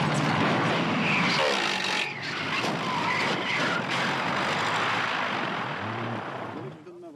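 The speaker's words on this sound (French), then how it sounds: "l'avion doit se poser en urgence devant la voiture" Stunt scene: an airplane making an emergency landing just in front of a moving car. A loud continuous engine roar with tire and rushing-air noise fills the scene, with a sharp dip midway and a fade at the close.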